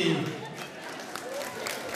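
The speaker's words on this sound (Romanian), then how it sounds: "Aplauze pentru Zamfira și Andy." Applause from a crowd at a high school freshman ball for a pair of performers, a steady wash of clapping with voices talking over it.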